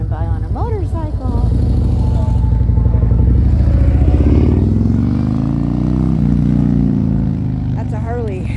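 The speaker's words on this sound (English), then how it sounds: "We got somebody really loud coming by on a motorcycle." Loud Harley-Davidson motorcycle rumbling past nearby, its low engine note swelling and holding for several seconds before easing off, with brief talk at the start and end.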